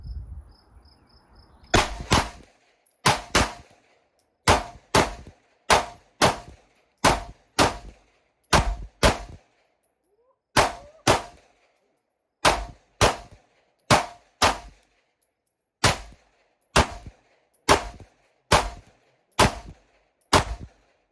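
Gunshots from a Glock and an MR920 pistol fired outdoors, about twenty loud sharp reports in quick irregular succession, each with a brief ringing tail.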